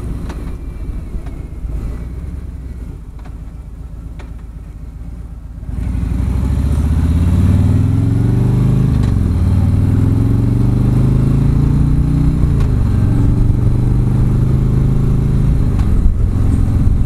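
A 2017 Harley-Davidson SGS touring motorcycle rides along, starting from quieter wind and road noise before the engine swells into a loud, steady rumble that rises and falls in pitch as it accelerates through gears.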